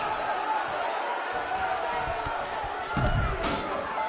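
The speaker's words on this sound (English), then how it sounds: "We have a sold-out, record-setting crowd here for BCW tonight." Video-game arena crowd from WWE 2K19 at a sold-out wrestling show, a steady broadband roar of cheering with a louder swell and impact-like thuds near the end, under commentary.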